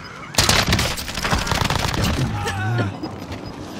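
Gunfire in a video game: a burst of rapid shots fading into scattered game effects and tonal sounds, with a voice talking underneath.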